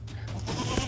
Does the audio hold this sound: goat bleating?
yes